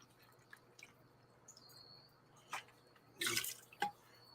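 Malibu rum splashing as it is poured for a cocktail, a short quiet burst of liquid with a couple of small drips, close up and otherwise nearly silent.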